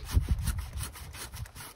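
A Silky hand saw cuts through deadfall wood on a forest trail, a quick rhythmic rasp of back-and-forth strokes, close and steady.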